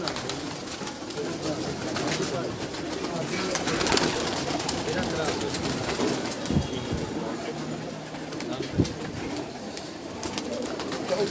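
Pigeons on a rooftop cooing, set against steady outdoor noise, with a few short knocks and a faint sense of distant traffic or rail in the background.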